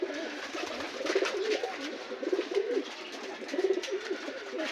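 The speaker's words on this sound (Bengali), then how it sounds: "দেখেন খুব সুন্দর কবুতর, দেখেন কি করে।" Rooftop farm pigeons keep up a rolling chorus of soft, throaty coos with brief scuffling, close by over a constant background hiss.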